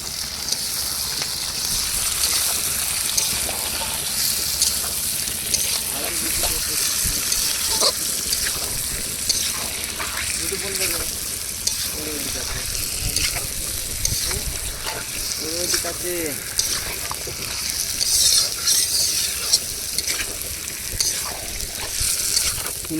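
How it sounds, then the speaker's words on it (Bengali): Potatoes fry noisily in a pan at an outdoor riverside picnic, their continuous sizzle broken by repeated scraping and clinking as a short spatula stirs them, close and loud throughout. "আলু ভাজা"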